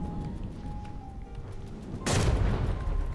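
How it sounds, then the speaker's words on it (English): Warship cannons in the video game From the Depths fire one sudden, loud booming blast that lingers as a heavy rumble, after a quieter stretch of low background noise and no talk. "Big cannons on that steamworks there. They could do some serious damage if they connect."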